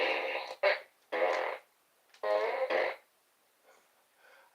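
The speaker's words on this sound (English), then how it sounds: "It's time for more fart noises." A series of loud, close fart sound effects, several buzzy blasts of varying length, the last one fainter, heard alone without speech.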